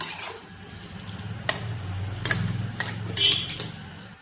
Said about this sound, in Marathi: आणि ह्यावर झाकण ठेवूया।